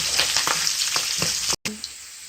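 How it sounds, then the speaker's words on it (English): Curry leaves sautéing in hot oil for a salmon curry, a dense close sizzle and crackle with a few stirring scrapes, broken by a sudden brief drop-out before the frying resumes. "My curry leaves now. Saute for 1 minute."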